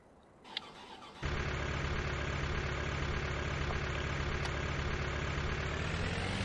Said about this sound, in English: And here's the engine noise.